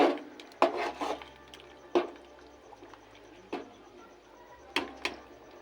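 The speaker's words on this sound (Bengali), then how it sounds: "আবার একটু নেড়ে নেব" A spoon stirring cauliflower khichuri in a cooking pot after sugar goes in, with a handful of distinct scraping knocks against the pot at irregular intervals over a quiet low hum.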